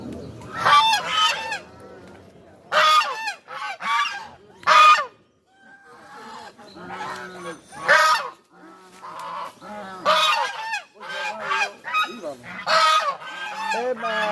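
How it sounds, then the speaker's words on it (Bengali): Large geese honk at a market, loud harsh calls coming in repeated bursts from several birds nearby, with short quiet gaps between them. "রাজহাঁস একটা অনেক বড় বড়।"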